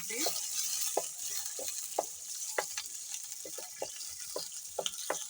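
Onions fry in a pot over an outdoor village cooking fire, giving a steady sizzle with a scatter of scraping, clacking stirring strokes, close and clear with no talk.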